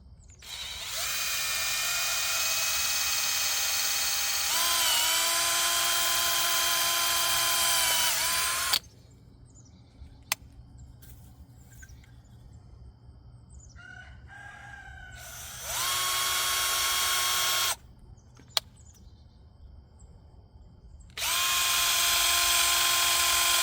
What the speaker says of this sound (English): I can oversize the hole with my good drill bit